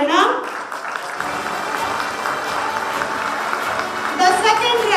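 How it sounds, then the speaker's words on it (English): An audience at a college day programme applauds award winners as they come on stage, a steady wash of many hands clapping at moderate loudness, with a voice speaking over it toward the end. "Request everyone to please give them a big round of applause as they come on stage to receive the award."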